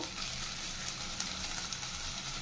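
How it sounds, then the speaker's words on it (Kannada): Onions and green chilies fry in a pan for restaurant-style fried rice, giving a steady, close sizzle that holds at an even level throughout with no voices. "ಈರುಳ್ಳಿನ ಫ್ರೈ ಮಾಡ್ಕೋಬೇಕು"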